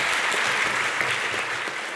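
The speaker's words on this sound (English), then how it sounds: "but we'll applaud him" A school board meeting audience applauds students in a steady, dense burst of clapping that fills the room and holds at an even level throughout.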